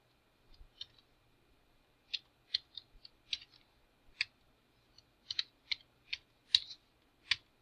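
Student names are typed on a computer keyboard in a quiet room, sparse crisp key clicks arriving singly and in short clusters, close and clear with no voices.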